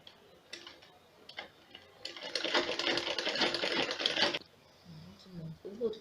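A sewing machine stitches a seam on an umbrella skirt, running steadily for about two seconds in the middle, with rapid close mechanical ticking, and with quieter handling sounds before and after.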